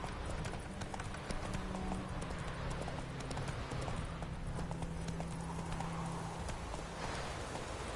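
A horse gallops through The Witcher 3 on PS4, its hooves clip-clopping in a steady, continuous rhythm over a low droning game ambience for the whole stretch.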